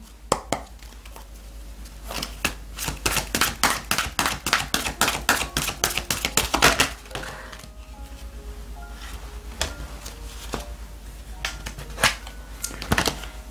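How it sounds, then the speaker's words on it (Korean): Oracle cards being shuffled by hand: a dense run of rapid crisp flicking clicks for several seconds, then sparser taps and snaps, close and alone with no talking. "카드가 많이 나와서 다시 한번 셔플 하겠습니다."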